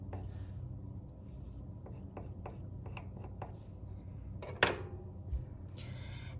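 Colored pencils scratching across paper while coloring with heavy pressure, soft close scratchy strokes in short bursts, with a brief louder knock or rustle near the end.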